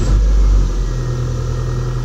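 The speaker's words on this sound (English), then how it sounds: "Car starts right up." A 1993 Nissan Altima engine catches and settles into a loud, steady idle rumble close by, with no talking.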